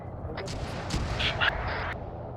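Mortar barrage in the military game Arma 3, several muffled distant booms and thuds rolling in over a low rumbling background.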